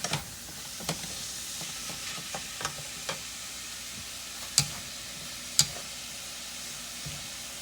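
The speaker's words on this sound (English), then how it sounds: "So I'm just going to continue to cook the ground pork while the cabbage is wilting down." Ground pork cooks in a pan alongside wilting cabbage for egg roll filling, a steady soft sizzle with occasional utensil stirs and scrapes, close and quiet, no talking.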